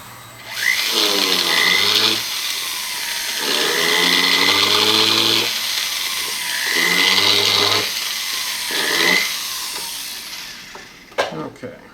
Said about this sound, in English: I'm going to drill a little hole in it